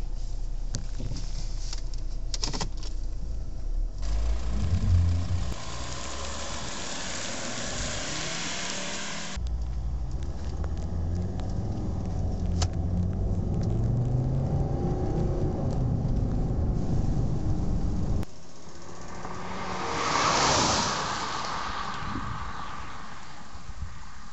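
A Volvo V60 D5 diesel engine drones and rumbles steadily while driving, rising and dropping with gear changes, with a brief surge of wind-like rushing near the end.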